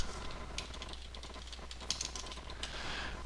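Keys tapped on a computer keyboard while a web link is typed into a plain-text email, a quiet, irregular run of light clicks over steady low background hum.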